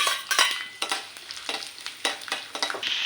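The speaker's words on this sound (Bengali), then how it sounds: "আমি রসুন পেঁয়াজটা আর কাঁচা মশলা দিয়ে দিলাম তেলের মধ্যে" Garlic, onion and fresh spices frying in hot oil and being stirred, giving bright crackling sizzle with a repeated scraping rhythm, close and fairly loud with no talk.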